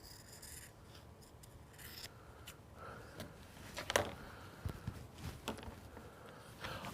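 Scissors cut through puppet-making material in a quiet workshop, with soft scattered snips and rubbing sounds, a few sharper clicks standing out against faint background hiss.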